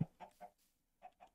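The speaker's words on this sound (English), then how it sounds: "I got put with the chickens." Chickens in a Minecraft-style multiplayer survival game give a few short, quiet clucks in two small clusters separated by a brief pause, with no talk over them.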